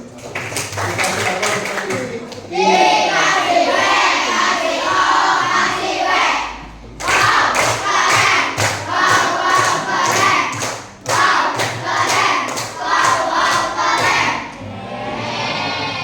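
Schoolchildren in a classroom clap their hands together in loud rhythmic bursts, with brief pauses between rounds and excited young voices mixed in.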